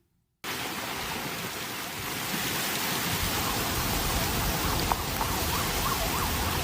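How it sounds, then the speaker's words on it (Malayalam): Heavy rain pouring across Saudi Arabia, a dense, continuous hiss of falling water that starts abruptly after a short silence and grows slightly fuller partway through, close and steady with no voices. "സൗദിയിലുടനീളം ശക്തമായ മഴ തുടരുകയാണ്"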